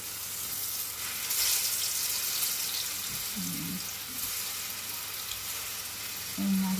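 Food frying in hot oil in a home kitchen, a steady close sizzle with a faint hiss throughout and a couple of brief low clinks.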